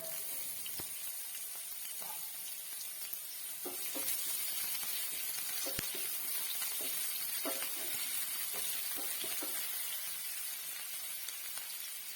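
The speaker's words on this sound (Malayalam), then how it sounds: "ഇതിലേക്ക് വലിയ ഉള്ളി അരിഞ്ഞു വെച്ചത് ചേർത്ത് നന്നായിട്ടൊന്ന് വഴറ്റി എടുക്കാം" Chopped onions with ginger-garlic paste sauté in a pan, giving a faint, steady sizzle with scattered light clicks and scrapes of stirring across the stretch, quiet and without voices.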